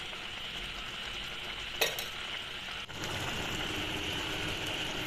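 Chicken with beetroot simmers in gravy in a pan, giving a steady soft bubbling hiss, with one brief clatter partway through. No one speaks.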